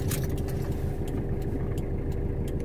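A Toyota Hilux pickup truck rolls past alongside on a highway, its engine a loud, constant rumble mixed with road and wind noise, steady for the whole moment.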